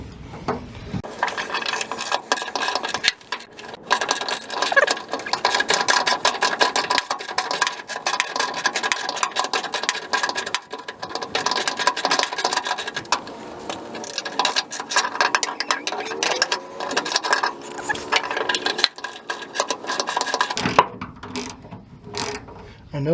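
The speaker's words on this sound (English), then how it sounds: "I'm just going to try ratcheting with the little extension I got" A hand ratchet fitted with a small extension turns the spare tire hoist on a Ford F150, giving a steady run of quick, close metallic clicks that goes on for most of the stretch and then stops briefly near the end.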